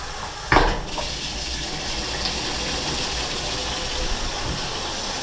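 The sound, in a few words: hot water running from a bathroom tap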